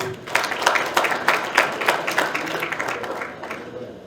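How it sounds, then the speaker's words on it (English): Audience at a youth summit in Kano, Nigeria, claps in a hall with distinct, fairly close hand claps in an uneven rhythm that thins out toward the end, with faint crowd murmur beneath. "Please, another round of applause for them."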